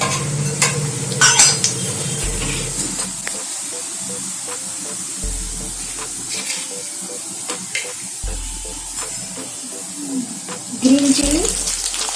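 Nigella seeds and cumin crackle and sizzle in hot oil in a pan, a steady close frying hiss with faint stirring scrapes and low background hum throughout.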